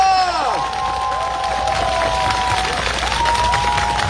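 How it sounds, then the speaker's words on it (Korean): A crowd at an outdoor political campaign rally in Jeju claps and cheers steadily, with scattered shouts and whistles rising above the dense applause. "다시 한번 김한규 총괄 선대위원장님께 뜨거운 박수 부탁드립니다."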